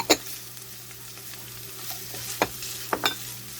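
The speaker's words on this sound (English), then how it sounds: "it's getting too fast and cooking that garlic, you want to back down your heat" Garlic fries in a hot pan over heat set too high, giving a steady sizzle punctuated by several clattering stirs and scrapes, close by and moderately loud.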